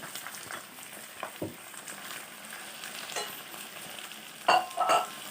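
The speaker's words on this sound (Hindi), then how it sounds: "चिकन को अब हम थोड़ी देर फ्राई करते हैं इसके अंदर" Chicken frying in oil with ginger-garlic paste in a pot for restaurant-style biryani: a soft, steady sizzle with occasional stirring scrapes and a couple of louder clatters near the end.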